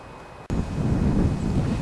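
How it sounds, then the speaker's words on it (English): Low, rumbling wind buffets the microphone on a canal bank during pike fishing, after a brief quiet moment at the start, continuing steadily and loudly. "It's quite windy now."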